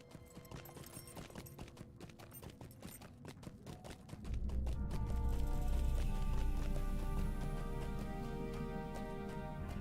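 Goat mount galloping in The Lord of the Rings Online, a steady clip-clop of hooves running over dense game music and ambience, loud and close throughout.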